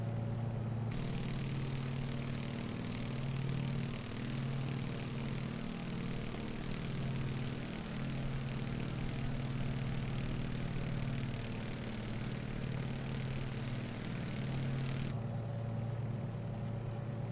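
Steady, loud drone of the twin piston engines on a Beech Model 18 in a flight simulator, with strong pulsing low harmonics that hold continuously throughout and no talk.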